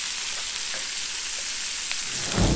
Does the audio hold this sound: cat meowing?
no